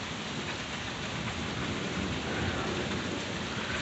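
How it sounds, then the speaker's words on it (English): Heavy rain pours steadily in a thunderstorm, a dense continuous hiss with a low rumble of thunder beneath it, loud and unbroken with no voices. "if I shut up, you guys can hear the storm"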